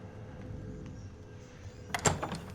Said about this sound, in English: The door.